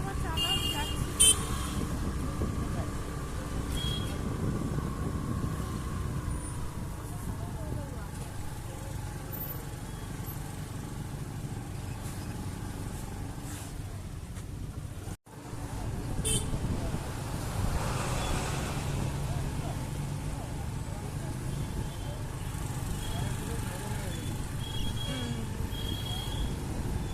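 A car cruises along a road from Dibrugarh to Jokai with a steady low engine and road rumble, plus some wind noise, under intermittent talk and a brief cut partway through.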